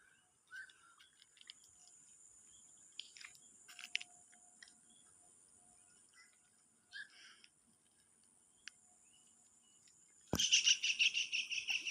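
Small birds chirping at dusk around seven in the evening as they head to roost, faint, scattered calls spread through the quiet, ending with a sudden loud, rough burst of nearby noise.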